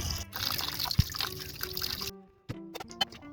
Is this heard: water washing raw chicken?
yes